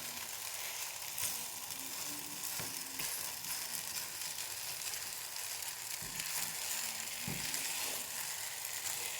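Suji batter cooks and roasts in a pan with a constant close hiss of sizzling, dotted with a few scrapes and thumps of a spoon stirring it, no one speaking.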